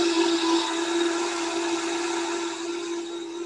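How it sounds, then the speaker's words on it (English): A kitchen blender running on Thanksgiving cooking food, a steady high motor whine with a strong constant tone, loud at first and easing slightly over a few seconds, with no talking. "Into the blender this goes."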